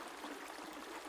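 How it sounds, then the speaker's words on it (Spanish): Flowing river water makes a quiet, continuous hiss with a slight gurgle, steady and unbroken throughout a very short stretch, with no voices. "Ahora visualiza cómo el agua fluye desde la fuente del río"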